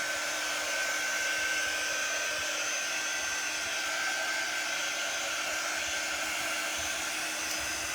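A hair dryer blows steadily and loudly on a handmade bow, an unbroken whooshing roar with a faint whine, close by and constant for the whole stretch with no voices.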